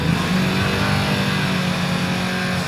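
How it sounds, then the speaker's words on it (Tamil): A Hero Splendor motorcycle engine revs loudly and close by, a continuous buzzing drone that rises slightly and holds throughout. "hero Splendor"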